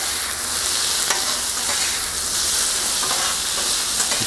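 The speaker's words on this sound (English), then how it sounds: "You can smell that sauce just hitting that griddle" A1 sauce hitting a Blackstone griddle alongside smash burgers, producing a loud, dense, unbroken sizzle and hiss with occasional faint scraping, close up and without talking.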